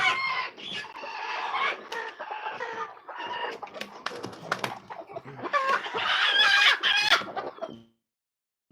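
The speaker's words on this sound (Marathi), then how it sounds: "निखिल सोनावणे साहेब विचारतात कोंबड्या सांडपाण्यावरच चरतात" Farm chickens cluck and squawk in bursts, several birds calling close by, a rooster-like crow rising near the end before the sound abruptly cuts off.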